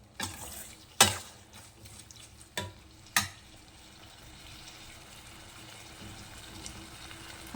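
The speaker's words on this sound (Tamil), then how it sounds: "அதனால் நல்லா கிண்டுங்க." Snail gravy stirred in a kadai, with a few sharp scrapes and knocks of the spoon against the pan over a soft, steady background sizzle.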